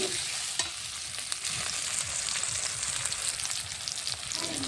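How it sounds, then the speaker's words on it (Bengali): Chopped tomato is stirred into frying masala in a pan, a continuous hissing sizzle with occasional spatula knocks and scrapes, close and fairly quiet, with no talking. "এবারে কুচনো টমেটোটা দিয়ে দেবো, দিয়ে ভালো করে নাড়বো"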